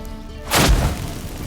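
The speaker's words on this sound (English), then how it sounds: "Get ready for some magic fireworks." A magic fireworks blast in The Witcher 3 video game, a single sudden booming burst with a low thud that fades into a rumbling tail.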